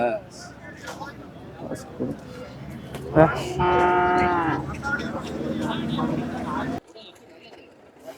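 A native cow at the Erode cattle market lets out one long, loud, close moo partway through, with the busy murmur of the market and people talking heard before and after it.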